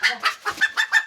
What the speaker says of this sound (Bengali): কি হয়েছে মুরগি চিল্লাই কে?